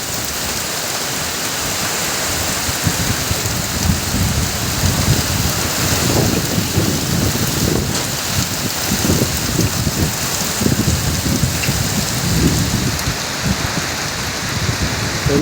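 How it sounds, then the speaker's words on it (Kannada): Heavy rain pours steadily beside the swollen Netravathi river near Dharmasthala, a dense continuous hiss with a low rumbling undertone, loud and unbroken throughout with no voices. "ಎಷ್ಟು ಜೋರು ಮಳೆ."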